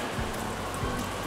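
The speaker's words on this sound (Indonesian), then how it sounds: "ada typhoon ya guys, jadinya ada hujan angin itu guys" Steady typhoon rain and wind in the farming game Story of Seasons: Pioneers of Olive, a dense, constant hiss of downpour with no gaps, moderately loud and alone.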